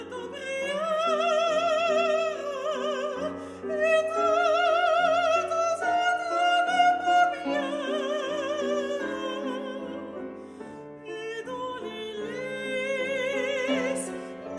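The climax of a Lili Boulanger song with piano: a voice sings sustained, vibrato-rich melodic lines over piano chords, swelling and easing in loudness, with no speech.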